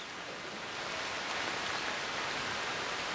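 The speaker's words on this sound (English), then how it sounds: "Not with the rain, the temperatures." Steady rain falls outdoors, an even hiss of drops on surfaces without break or voices, moderately quiet and constant throughout.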